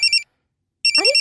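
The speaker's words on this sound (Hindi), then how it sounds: "अरे फोन उठा लो ना, वरना बार बार यूं ही बजता रहेगा।" An electronic telephone ringer trills in two bursts of bright, warbling tones separated by a brief silence, loud and close, with a faint voice slipping in under the second burst.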